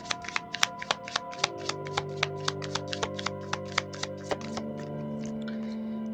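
Tarot cards are shuffled and handled in a quick run of crisp, evenly spaced riffling snaps that thin out toward the end, heard close over soft, steady background music.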